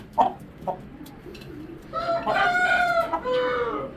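A Giribaz rooster crows nearby in a long, loud, wavering call, preceded by a few short clucks.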